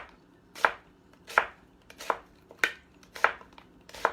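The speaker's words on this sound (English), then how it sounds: "And then slice this really thin." A knife slicing a peeled onion thinly on a cutting board, six crisp evenly spaced chops close up, each a sharp knock with a brief crunch, in a quiet kitchen.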